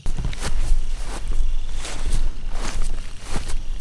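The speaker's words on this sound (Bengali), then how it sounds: "হঠাৎ রাহুলের মনে হলো তার পেছনে কেউ হাঁটছে।" Footsteps walk steadily behind someone on a silent night as a horror story sound effect. About six evenly spaced, fairly close, soft thuds form a continuous low rustling pace, with no talking.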